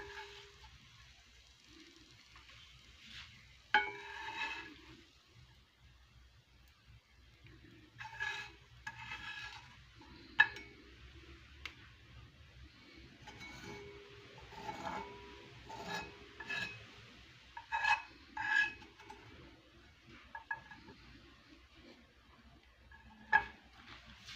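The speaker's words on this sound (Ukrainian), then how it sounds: "Сюди ж я викидаю наші гливи." Oyster mushrooms frying with onion and carrot in a pan, a soft steady sizzle broken by intermittent scrapes and clinks of a utensil stirring against the pan, fairly close with no talking.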